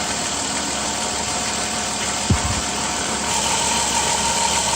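A car engine with a thermostat stuck open idles steadily with a low, even hum and faint vibration, one brief thump midway, no voices.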